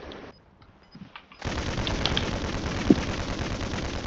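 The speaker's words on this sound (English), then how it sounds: "Somebody shooting me." Sustained automatic gunfire in the video game Warzone 3, a dense, continuous rattle of rapid shots that starts abruptly after a near-silent opening and runs loud to the end.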